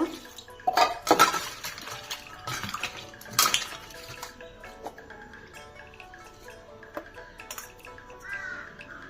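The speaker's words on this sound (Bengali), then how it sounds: "আলু ধুয়ে নেব" Potatoes being rinsed in water in a kitchen vessel: intermittent close splashes and clattering knocks, louder at first and then settling into softer sloshing.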